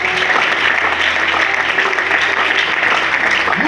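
A church congregation at a special gathering applauds and cheers, loud dense clapping that continues without a break from start to finish with voices mixed in.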